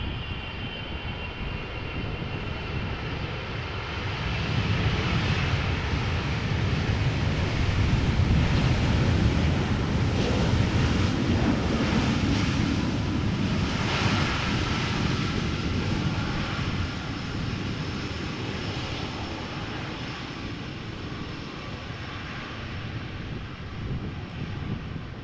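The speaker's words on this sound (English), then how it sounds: "Because Air Canada flight 808 is about to touch down." An Air Canada airliner, arriving from Toronto, lands at Amsterdam Schiphol Airport, a sustained broadband jet roar that swells to a peak and then slowly fades, heard from a distance with no talk.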